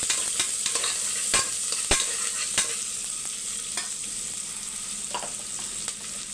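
Large onions fry in a pan for a home-cooked lunch, giving a steady close sizzle broken by sharp scraping taps as they are stirred, with no voices.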